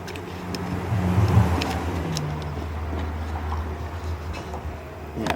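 A Honda Fit engine idling and briefly revving nearby, a steady low rumble that swells early and then settles back, with no voices.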